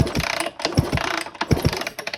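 A 1999 Honda CR125 dirt bike engine with no spark is cranked over but doesn't fire, giving a rapid, rattling mechanical churn with repeated low thumps, loud and close.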